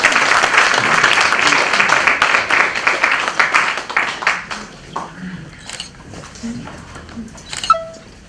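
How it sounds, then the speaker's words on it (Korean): Audience applause at a Korean preaching school graduation ceremony, loud steady clapping from a crowd that gradually thins into scattered claps before a voice speaks. "격려 박수 보내주세요."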